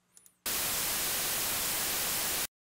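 White noise from a Zebra2 synthesizer clip bursts in abruptly and holds as a steady, loud, full-spectrum hiss for about two seconds, then cuts off sharply into silence.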